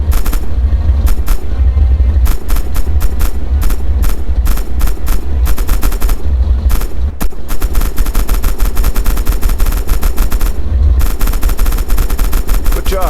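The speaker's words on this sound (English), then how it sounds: "Use the hull MG and open fire on the targets." Tank hull machine gun in Red Orchestra 2 firing at targets, loud rapid bursts repeating almost continuously, close and dominant over a low engine rumble.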